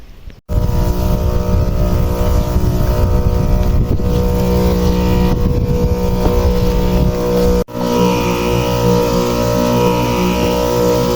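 Motorized pesticide sprayer working over a mung bean crop, a loud steady engine drone with strong low harmonics running almost unbroken, cutting out briefly near the start and again partway through.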